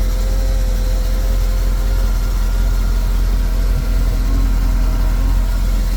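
A wakeboard surf boat's engine idles steadily with a constant low rumble and hum, loud and close, unbroken for the whole stretch with no voices.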